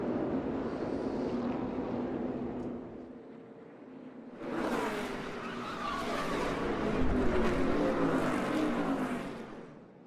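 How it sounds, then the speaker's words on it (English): NASCAR Cup Series race cars roar around the track, engine noise dipping and then surging loud as a pack of cars goes by during a multi-car crash, with no voices heard. "There was a little contact with the 21 of Ryan Blaney as well as he was coming up the racetrack"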